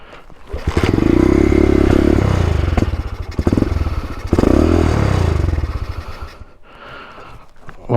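A vintage motorcycle engine being started: two loud, rumbling surges of engine noise with clatter between them, then it dies away to quieter mechanical sounds.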